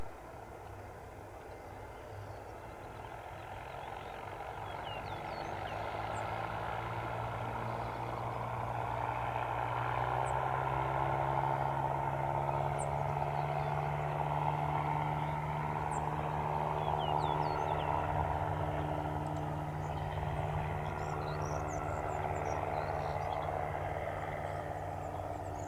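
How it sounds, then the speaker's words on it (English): Small general aviation aircraft taking off from a runway at Spirit of St. Louis Airport, its engine drone swelling into a steady, loud roar with shifting tonal hum as it accelerates and climbs, no talk over it. "runway 8 right, clear for takeoff"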